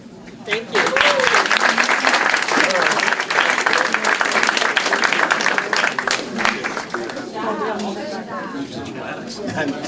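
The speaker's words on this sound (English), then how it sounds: "So can I just get another round of applause for the connector?" An audience applauds after a community project presentation, steady dense clapping that rises quickly and holds for several seconds before thinning slightly, with voices chattering underneath.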